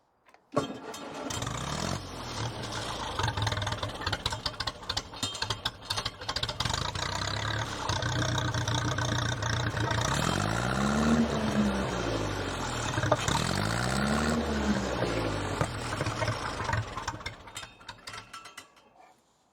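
A Ferguson T20 tractor engine runs steadily just after its carburettor mixture screws were adjusted, a close, continuous mechanical chug lasting most of the clip, with the pitch rising and falling twice in the middle as the revs change, then cutting off.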